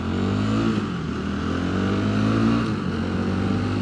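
A 2022 Rieju MRT 125SM LC supermoto motorcycle being ridden, its engine giving a loud, steady buzzing drone with slight pitch shifts and wind noise, heard close and continuously throughout.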